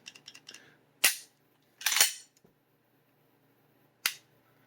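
Sharp metallic clicks from an FN FNP 9 pistol's trigger reset: a quick cluster of small clicks, then two louder snaps and one final crisp click, close up.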